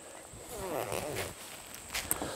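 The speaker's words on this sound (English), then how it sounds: "Then it's just a matter of zipping the pants legs down." The legs of insulated cold-weather hunting pants are zipped down over boots with a close, ripping zipper pull lasting a couple of seconds, followed by a short extra rasp.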